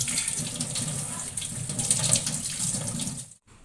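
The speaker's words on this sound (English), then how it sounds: "And wash again with running water." Water runs steadily from a tap over raw chicken pieces being rinsed in a kitchen sink, a continuous close splashing that stops abruptly near the end.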